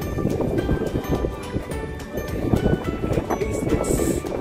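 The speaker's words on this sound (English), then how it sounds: "It's very windy." Strong wind buffets the microphone atop the Acropolis in Athens, a loud, rumbling, gusty roar with shifting intensity filling the short span without speech.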